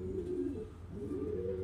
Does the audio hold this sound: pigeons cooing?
yes